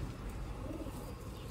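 Sialkoti rooftop pigeons coo faintly, a brief low murmuring call heard quietly against light background noise.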